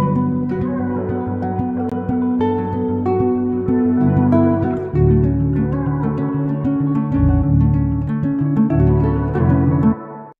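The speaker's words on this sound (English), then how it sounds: "I added the vocals here as well and the bass line. And together that section sounds like this" Dark R&B sample section layers a guitar melody with vocals and a deep bass line, dense and sustained, with heavier low end entering midway and running to an abrupt ending.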